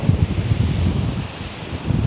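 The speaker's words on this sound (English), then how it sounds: "Very windy." Strong wind on the shingle of Chesil Beach, by the Fleet, during beach fishing, buffets the microphone with a steady, dense roar and low rumbling gusts, with no talk over it.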